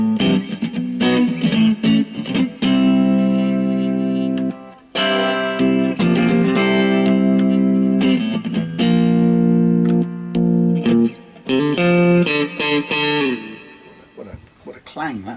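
Oakcaster 18 HSS electric travel guitar played through its middle pickup alone, giving a bright, clanging tone in strummed chords and ringing notes with brief pauses, loud and close.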